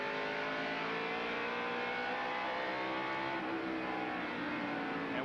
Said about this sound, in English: And we go inside Ricky Rudd's car as he battles alongside Mark Martin with Jimmy Spencer and Tommy Ellis just ahea